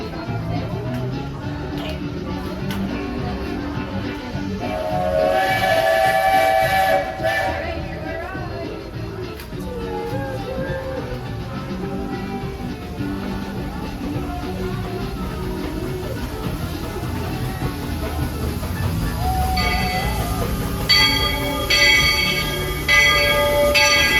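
The Walt Disney World Railroad steam train at the Magic Kingdom pulls away, with a rumbling, clanking run under tonal whistle blasts midway and again near the end, and wheel squeal and bell-like ringing over the steady rolling.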